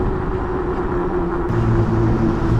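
Shinko SR244 dual sport tires hum steadily on pavement under a Super 73 R e-bike, a loud continuous droning road noise with low rumble throughout.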